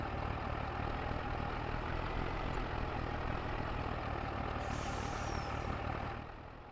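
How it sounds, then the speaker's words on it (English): A truck engine in the video game Farming Simulator 22 rumbles steadily at idle, then a sharp air brake hiss bursts out near the end before the noise eases off. "Zoom out so we don't have to hear the truck."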